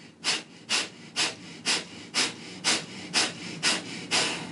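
Nine forceful, evenly spaced breaths in a pranayama yoga exercise, each a sharp rushing puff about half a second apart, close and clear with no talking.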